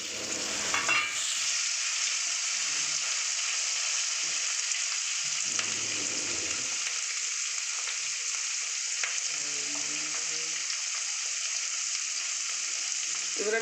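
Dry fish for a Bengali curry frying in a pan makes a loud, constant hissing sizzle, close up, with a few brief stirring scrapes and clatters partway through and no talk.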